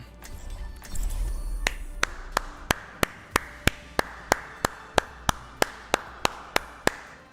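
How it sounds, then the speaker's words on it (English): A steady run of sharp hand claps, about two per second, following a brief burst of louder noise at the start. "Clapping."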